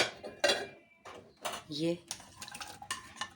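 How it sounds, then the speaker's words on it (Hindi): Onions tipped into a cooking pot of meat for bhindi gosht, giving a few sharp metallic clatters and scrapes of pot and utensil, close and fairly loud, with a brief word of speech among them. "और अब इसमें प्याज डाल देंगे हम।"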